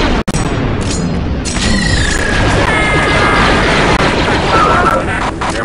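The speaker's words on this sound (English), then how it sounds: "The charge is set and ready to detonate." An explosive charge detonates in Star Wars: Republic Commando, a loud booming blast followed by crashing debris and sustained rumbling that fills the scene.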